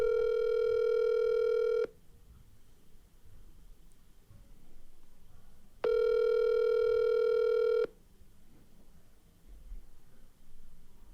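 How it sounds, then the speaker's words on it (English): A phone call rings out on the line as loud, steady tone bursts about two seconds long. Two of them are separated by quiet gaps of faint background hiss. "Who doesn't pick up their phone?"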